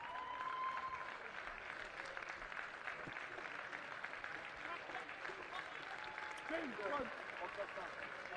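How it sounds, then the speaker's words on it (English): Crowd applause at an under-18 Six Nations rugby match between Wales and Italy, steady sustained clapping from spectators with a commentator's voice over it. "Obstreperous reception from the crowd"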